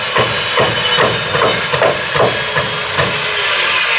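Construction workers hammering on a building site, a series of sharp metallic strikes at an irregular, roughly half-second rhythm, loud and close over a hissy background of site noise.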